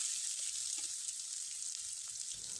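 Chopped onion, garlic, chili and ginger fry in hot oil, a faint, continuous high hiss of sizzling with no voice over it.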